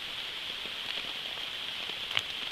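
Rain falls on a forest campsite, making a soft, even hiss with scattered faint drop taps and one sharper patter near the end, with no voices.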